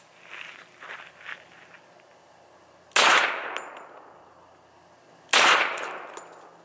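Two loud, close gunshots from a .45 ACP firing 230-grain full metal jacket rounds at a chainsaw motor, about two seconds apart, each a sharp crack with a ringing decay over faint rustling.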